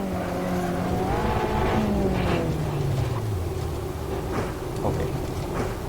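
An Abarth 500 in the Assetto Corsa racing game brakes and drives on, engine pitch falling then holding steady, with tire scrubbing over the motor and no talk.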